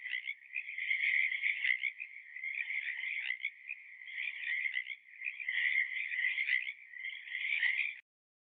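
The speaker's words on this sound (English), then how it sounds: "it was probably the calls of a Pacific tree frog" A continuous chorus of Pacific tree frogs calling in spring mating season, rapid raspy croaks overlapping with little pause, clear and fairly close.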